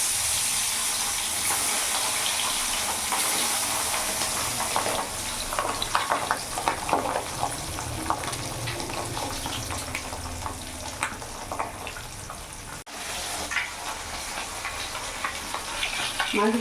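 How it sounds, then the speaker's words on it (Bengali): Pabda fish fry in hot mustard oil in a pan over a gas flame, giving a steady crackling sizzle with bursts of sharper spitting pops through the middle and a brief break near the end. "তেল গরম হয়ে গেছে, আমি এবার মাছগুলো ছেড়ে দেবো।"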